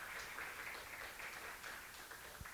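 Applause from a conference audience for the catering team, a soft, steady wash of clapping heard faint and distant with no voices over it.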